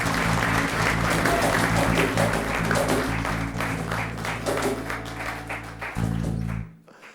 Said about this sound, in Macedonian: Аплауз за Пеперминт.